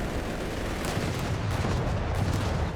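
Autocannon and machine gun fire in a Company of Heroes 3 battle, a dense, continuous wash of rapid shots and distant booms at steady level with no talk.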